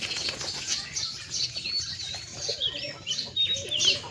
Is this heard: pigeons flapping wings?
yes